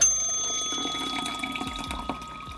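Liquid, presumably the stop bath from a black-and-white film home-developing session, pours steadily into a developing tank for a couple of seconds, a soft continuous trickle with no voices.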